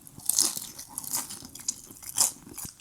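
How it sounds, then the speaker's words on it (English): Crisp food is bitten and chewed up close, with several sharp crunches and crackles separated by brief pauses. "You wanna hear the crunch?"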